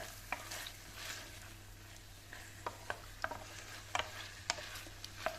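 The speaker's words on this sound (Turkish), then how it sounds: "Etimizi kavuralım." Soft, continuous sizzling of meat frying in extra virgin olive oil in a pan, with occasional sharp clicks and scrapes of stirring, steady and fairly quiet.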